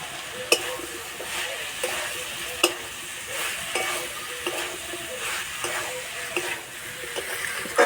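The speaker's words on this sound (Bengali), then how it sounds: "এবার ভেজে রাখা আলু আর এঁচোড় দিয়ে দেবো।" Fried potatoes and green jackfruit are stirred into spices frying in a pan: steady sizzling with regular scraping strokes of a spoon against the pan.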